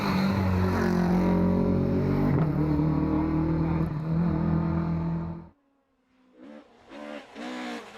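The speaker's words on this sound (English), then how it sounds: "The sound of the Escort going through the gap were the soundings of its death knell." Ford Escort rally car on a historic rally stage, its engine roaring loud and close with rising revs for several seconds, then cutting away abruptly to quieter, more distant engine noise.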